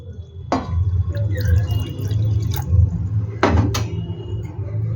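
Water is poured into a bowl of semolina in a home kitchen, giving a steady close liquid splash with a couple of brief clinks against the bowl.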